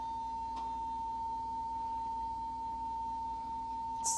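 A steady, faint high-pitched motor whine from a telescope mount slewing at top speed hums continuously, even and unchanging, with a soft click near the end.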